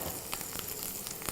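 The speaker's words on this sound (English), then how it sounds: "just fry it until it's nice and brown" Mushrooms fry in a pan until brown, a quiet, steady hiss with a few sharp crackling pops over about a second.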